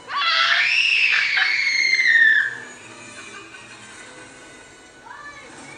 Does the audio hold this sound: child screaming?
yes